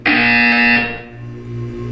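A loud electronic buzzer from the Portal 2 video game blares steadily for about a second, then drops to a quieter lingering tone with a low hum beneath.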